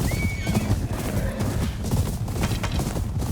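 Horses in the video game Ghost of Yotei whinny loudly over heavy galloping hooves and a dense, rumbling clatter, all at close range.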